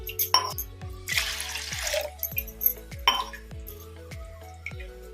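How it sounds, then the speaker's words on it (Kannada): Water poured from a glass onto toor dal for thili saru, a splashing pour in two bursts with glassy clinks and steady drips between, close and alone. "ಈ ಥರ ಗ್ಲಾಸಿಂದ ಎರಡು ಗ್ಲಾಸ್ ನೀರು ಹಾಕೋಣ"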